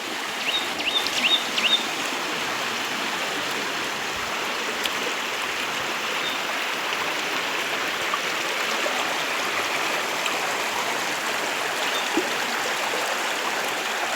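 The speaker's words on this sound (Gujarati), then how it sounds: "પાણી ચાલુ છે જો." A stream on a hill trail near a Khodiyar Mata shrine flows with a steady, broadband rushing and gurgling that stays even and fairly close throughout, with faint bird chirps briefly audible early on and no speech.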